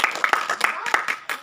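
A small group claps at a school or classroom event, a handful of sharp, uneven hand claps repeating over about a second and a half, fairly close and moderately loud.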